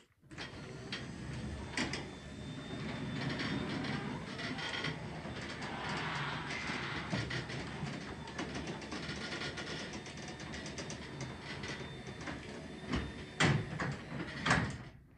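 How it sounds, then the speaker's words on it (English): A Genie Trac Drive Model 900-DC garage door opener runs a noisy door, a continuous mechanical whir and rattle with scattered clunks and squeaks, moderately close and steady for the whole stretch. "Door's making a ton of noise."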